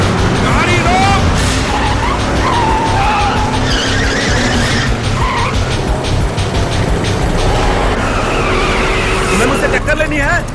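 A car tearing along during a movie chase, its engine roaring loudly as tyres skid and squeal repeatedly, with a man yelling over the noise.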